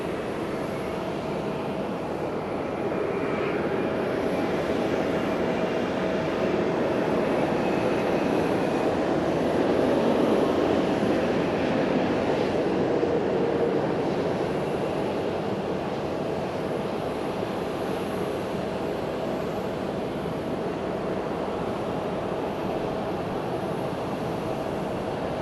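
An ANA airliner arrives at Fukuoka Airport from Haneda, a broad, steady engine rumble that swells gently through the middle and then holds, heard from a distance with no voices.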